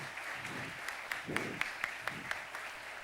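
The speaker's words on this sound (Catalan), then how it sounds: "Un fort aplaudiment, sisplau" Faint applause from an audience after a talk by a criminologist specializing in cybersecurity, a thin scattering of claps with a few sharper ones standing out over a low background murmur.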